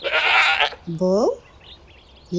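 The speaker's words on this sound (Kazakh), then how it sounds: "ешкі. Ешкі. Ешкі." A domestic goat gives a short, wavering bleat, loud and close, after a brief burst of broadband noise, with a voice speaking around it.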